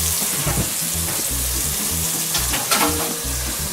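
Peppers and onions frying in bacon fat for migas, sending up a loud, continuous crackling sizzle with occasional stirring scrapes and rhythmic low pan sounds, no talking.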